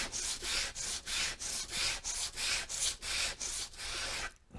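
Bent wood pieces being hand sanded: about a dozen rhythmic back-and-forth rasping strokes, close and steady, each a brief scratchy whoosh with short gaps between, ending in a quiet pause.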